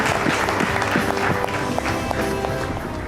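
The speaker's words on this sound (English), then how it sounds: "Huge round of applause for Janhvi Kapoor." Audience applause for actress Janhvi Kapoor at an awards event honouring her as Actor of the Year, a steady, dense wash of clapping that continues through the whole stretch with faint voices underneath.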